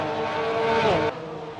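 Race cars lapping a circuit at Race City, Canada: a steady, fairly loud engine drone that swells as a car passes close, then drops off sharply.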